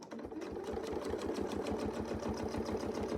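A sewing machine runs steadily while quilting along a Westalee ruler, its fast even needle rhythm close and continuous with no talk.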